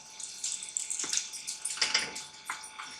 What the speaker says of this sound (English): Okay, and now we're gonna pour it in.